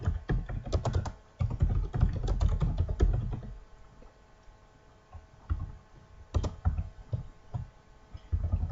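Keys clatter on a computer keyboard as numbers are typed, with a dense burst of rapid clicks, then a quieter pause and scattered single taps, close and fairly soft.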